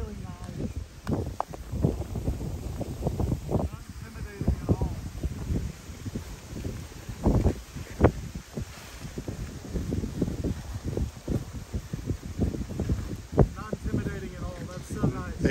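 High wind buffets the microphone outdoors during paraglider ground handling with an Apco Adama wing, coming in loud, uneven gusts and rustles while a person talks throughout.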